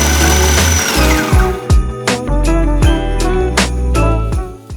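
Food processor blitzing biscuits down to fine crumb, a loud whirring motor with rattling, clattering pieces, then the motor stopping and restarting in short pulsed bursts.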